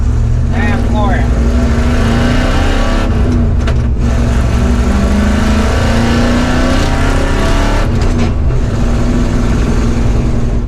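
A truck engine fitted with an Edelbrock carburetor and 10 degrees of added ignition timing roars at full throttle, loud and sustained from inside the cab, with the pitch climbing through gear changes.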